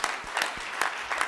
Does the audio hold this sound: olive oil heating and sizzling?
no